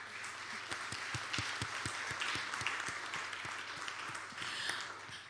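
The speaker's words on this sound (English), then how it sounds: "you can applaud for Randy" Applause for a jazz musician at an online Emancipation Day concert, an even patter of clapping held throughout, with a few distinct nearer claps standing out in a steady rhythm.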